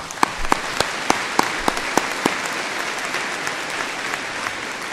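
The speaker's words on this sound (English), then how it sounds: "I think they deserve a special applause" A graduation ceremony audience applauds graduates who served in the armed forces, a dense, sustained roar of many hands with a few crisp nearby claps standing out early on.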